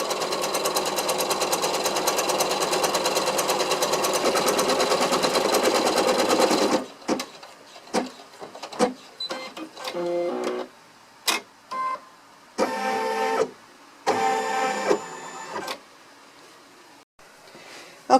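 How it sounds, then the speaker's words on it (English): An embroidery machine stitches a placement line on stabilizer, first in a long, steady, loud rattling run, then in short stop-start bursts with brief silences between them. "So now I'm just going to stitch out the first stitching, and that is going to just create a placement line for me to put my pocket."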